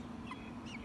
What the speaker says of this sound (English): They make little bitty tiny clucks.